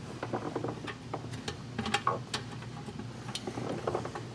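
A ratchet wrench runs down the transmission pan bolts on a 2015 Toyota Highlander, giving close, quick bursts of clicking pawl ticks in uneven runs against a low background hum.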